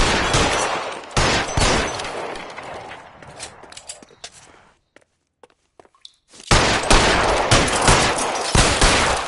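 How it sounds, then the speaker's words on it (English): Heavy gunfire in a shootout from L.A. Noire: dense rapid volleys of shots, loud and close, breaking into a near-silent lull with a few isolated cracks before the barrage resumes. "Pour it on, goddammit! Keep shooting!"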